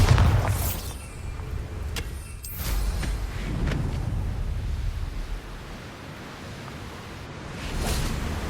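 A Confringo explosive spell goes off in Hogwarts Legacy, a loud booming blast with a whooshing burst up front, then further rumbling impacts and a swelling roar near the end, with no talking.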